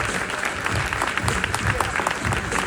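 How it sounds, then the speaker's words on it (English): Audience applause fills the space after a speaker's tribute, a steady wash of clapping from a crowd with some voices mixed in, continuous and fairly loud throughout. "Y'all give her another round of applause."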